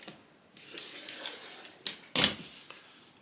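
Scissors cut paper shapes for a cut-paper collage, a series of crisp, separate snips and paper rustles at an uneven pace, close by and moderately loud, with no speech.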